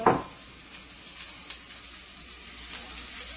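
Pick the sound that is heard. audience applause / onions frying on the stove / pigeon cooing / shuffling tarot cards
onions frying on the stove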